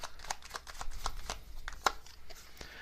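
Tarot message cards being shuffled by hand, a run of quick soft riffling and slapping bursts with a few sharper card snaps, close and quiet, with no one speaking.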